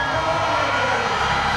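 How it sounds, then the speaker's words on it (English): Large stadium crowd at an athletics meet cheering and calling out continuously as a star 400 m hurdler appears, a steady dense roar with no pauses. "you can hear the crowd appreciation"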